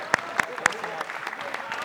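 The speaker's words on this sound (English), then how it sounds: "clap it up, clap it up" Players clap their hands in a handful of sharp, spaced claps in a gym at a FIBA NBA Basketball Without Borders Asia camp, with a coach's voice and background chatter around them.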